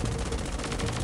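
Rapid machine gun turret fire in the Roblox G.I. Joe game, a dense, continuous burst of loud, closely spaced shots with no pause.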